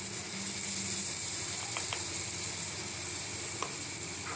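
Ginger garlic paste and chili powder fry in oil, a soft continuous sizzle with a few faint clicks of stirring, quiet and without talk.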